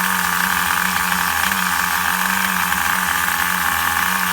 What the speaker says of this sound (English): Nothing like a nice idling engine.